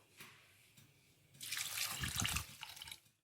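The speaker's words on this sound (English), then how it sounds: "Add everything and we need to add 2 cups of water into it." Water pours into a cooking pot for a South Indian spinach dal curry, starting with a few faint drips and then a louder splashing stream that fills for about two seconds before tapering off.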